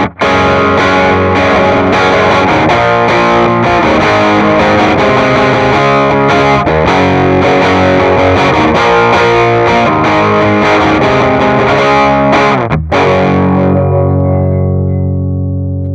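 Heavily distorted electric guitar through a Fender-style 2x12 cabinet impulse response plays continuously with a dense, saturated amp tone, then the final chord rings out and fades.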